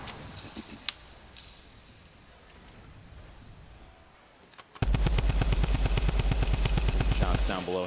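Rapid automatic gunfire erupts in a Fortnite match, a loud, dense burst of shots that follows a stretch of quieter ambience with a few faint distant pops.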